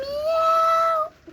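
A person imitating a cat's meow, giving one sustained tonal mewing call of about a second, loud and close, alone.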